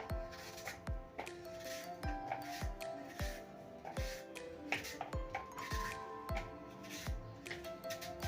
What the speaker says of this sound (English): Next we are going to cut these apples into small pieces like this